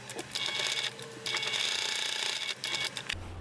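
A sewing machine runs in bursts along the seam of a small ballet bag, rapid mechanical stitching stopping and restarting a few times, close and fairly loud with no talking.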